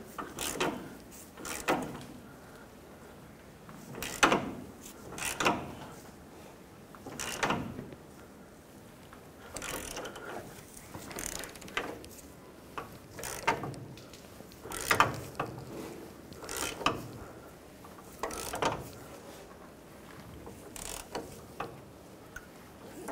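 A hand ratchet threads the pitman arm nut on a 1997-2003 Ford F-150, making repeated close bursts of mechanical clicking in an uneven rhythm with short pauses between strokes.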